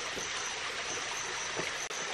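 A forest stream flows steadily with a continuous, close rushing wash of water, broad and even throughout, with no voices.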